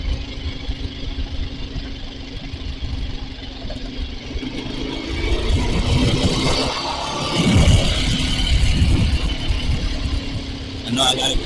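A Suzuki TL1000R motorcycle engine idles with a low, uneven rumble, swelling slightly louder midway, while someone talks over it.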